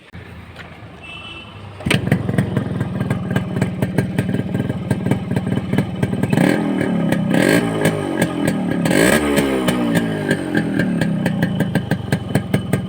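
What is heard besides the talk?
Yamaha RX 100 motorcycle engine starting and revving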